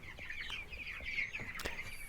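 Three-week-old broiler chickens on a South African farm cluck and chirp softly in a quiet coop, a faint murmur of repeated calls with one sharper peep near the end.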